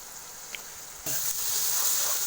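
Fenugreek chicken keema fries in a pan. After a quiet start, a sudden loud hiss of sizzling rises and holds steady and close.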